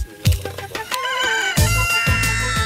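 Chickens on a small farm in the Alpujarras, Spain cluck loudly and close, with a rooster crowing through the sharp, repeated calls.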